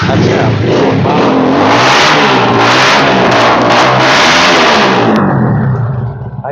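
A YCR-250RR super sports motorcycle engine revs hard and loud up close, a sustained high-pitched roar that holds steady for several seconds before cutting off abruptly.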